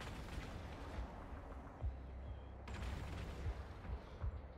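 Ship guns firing in EVE Online, a destroyer-class vessel trading fire with a target, heard as a low rumbling barrage with several dull booming impacts over a steady space-combat drone.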